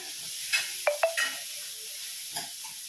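Leafy greens fry in a hot pan with the flame turned off, giving a soft steady sizzle broken by a few quick clinks and scrapes of a spatula stirring against the metal.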